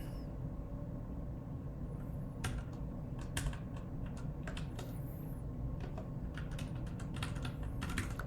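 Soft, close clicking of keys on a computer keyboard, an irregular run of quick taps and short bursts over a low steady hum, with no talking.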